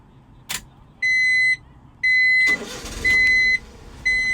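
A 1995 Honda Acty mini truck converted into a fire truck, with its engine in the rear, cranks briefly and catches. A loud, regular pattern of electronic beeps repeats around the start.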